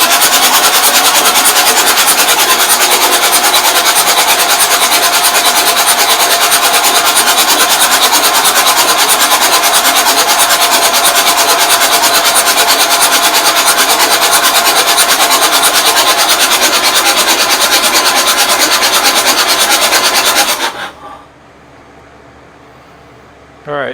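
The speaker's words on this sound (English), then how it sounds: "All right, so I hear some scraping." The engine of a 1989 Marmon truck gives off a harsh, continuous scraping and rasping drone, loud and close for about twenty seconds before cutting off abruptly into near silence.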